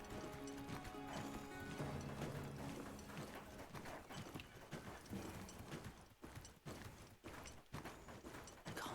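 A horse bird mount running in the video game Monster Hunter Wilds, heard as quick rhythmic clip-clop footfalls over layered game music and ambience, with occasional heavier thuds toward the end.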